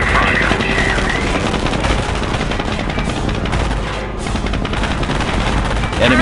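Rapid gunfire and explosions in a video game campaign mission, loud and continuous bursts of shooting throughout with a brief dip before resuming.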